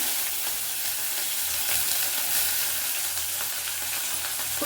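Green chillies frying in a hot pan for a lentil sambar, giving a dense, continuous crackling sizzle that stays close and steady throughout.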